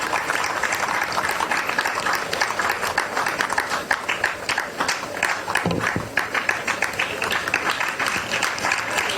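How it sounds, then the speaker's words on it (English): An audience at a hospital staff appreciation gathering claps together, a dense, sustained patter of many hands that holds steady without letup, with no voices above it. "Let us clap for Dr. Yeboah."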